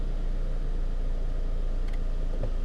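A steady low engine rumble from an idling 2002 Toyota Camry after new ignition coils and spark plugs, idling continuously, even and unchanging, with a faint brief rattle near the end.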